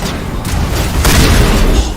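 Shotgun blasts in Mass Effect, two loud heavy booms in quick succession with thick low-end rumble, close and dominant, with no talking.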